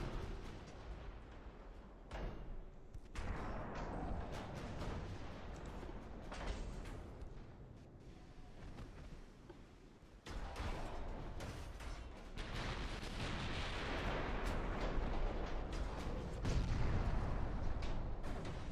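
Heavy cruiser guns firing in a naval battle from the Ultimate Admiral: Dreadnoughts game, a dense, continuous rumble of booms and distant explosions overlapping with no gaps, fairly steady throughout.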